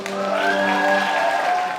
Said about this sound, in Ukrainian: Зустрічаємо оваціями.